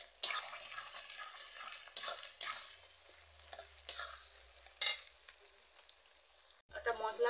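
Onions and capsicum frying in hot oil, with bursts of crackling sizzle and spatula stirring that come and go in uneven pulses, close by, with a brief quiet gap and faint voice underneath.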